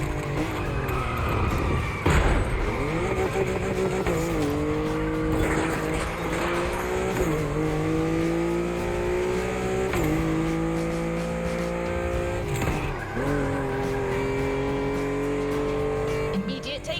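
Supercar racing in the video game The Crew Motorfest: a sustained engine drone climbs through repeated gear shifts, with tire squeal and skidding mixed in, loud and continuous throughout.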